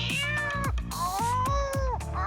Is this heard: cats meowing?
yes